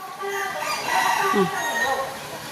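Pheasants and other birds call inside a large zoo aviary, with a loud crowing-type cry standing out over a busy chorus of bird sounds nearby.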